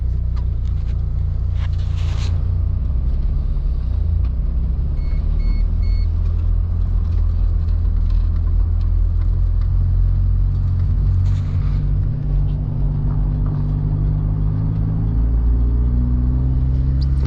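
A car drives along a snowy forest road in a January blizzard at minus eight degrees, its engine a steady low rumble close by with tyre and wind noise throughout.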